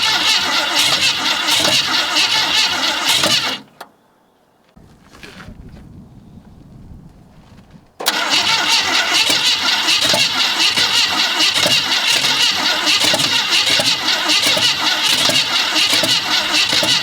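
A 1954 Ford F100's engine cranks and fires, roaring loudly for a few seconds before cutting out into a near-silent gap with a faint stutter, then catches again and runs hard and steady to the end.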